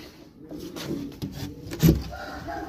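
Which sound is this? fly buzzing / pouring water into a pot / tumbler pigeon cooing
tumbler pigeon cooing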